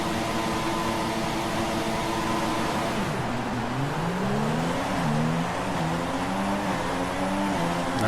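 Formula One cars idle and rev on the starting grid in the F1 2016 video game: steady engine drone with rising and falling harmonic tones, moderately loud and constant, with no talk.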